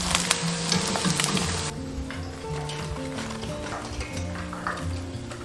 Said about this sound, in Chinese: 全程用中火炸，炸至这个鱼骨焦黄